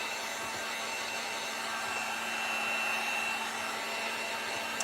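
Hair dryer blowing steadily on acrylic paint on a Dollar Tree Easter bunny craft sign, a continuous close airy whir with a faint hum that holds at even loudness throughout.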